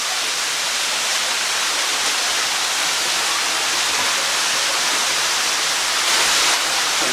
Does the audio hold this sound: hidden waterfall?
yes